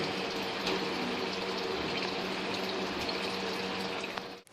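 Water runs steadily and loudly while filling tanks in an aquaponics system, a constant broadband gush with no pauses until it cuts off abruptly at the very end.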